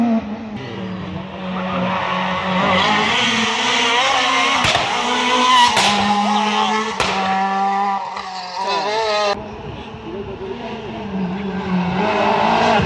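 A rally car on a mountain stage of the 2016 Rallye de la Matheysine screams past with revving engine and squealing, skidding tyres, loud and close, the pitch rising and falling through gear changes.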